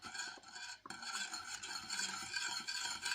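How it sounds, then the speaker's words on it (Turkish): A spoon steadily stirs a pot of milk pudding for a chicken-breast dessert as vanilla is mixed in, giving a close, continuous scraping and swishing against the pot with a brief pause partway through. "içine bir paket vanilya vanilin ekleyip karıştırmaya devam ediyoruz"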